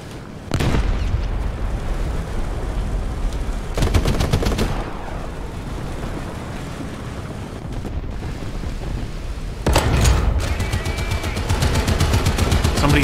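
Bomb blasts and bursts of machine gun fire erupt in a War Thunder tank battle, with loud booming impacts and rapid rattling volleys at intervals, separated by quieter stretches of rumbling battlefield ambience.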